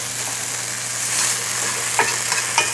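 Soaked potatoes fry in a Borough Furnace cast iron skillet, a loud, continuous close-up sizzle with a faint steady hum beneath and a few brief crackling spurts near the end.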